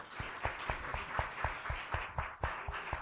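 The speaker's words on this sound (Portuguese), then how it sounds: "Uma salva de palmas só, uma salva de palmas." A small group at a live talk clapping in a short round, a few distinct, fairly quiet hand claps repeating at an uneven rhythm, with no talking.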